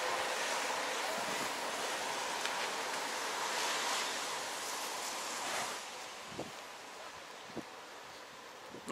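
Steady wind blows outdoors on a street in Baku, a broad rushing hiss with a few soft buffets against the microphone, no voices.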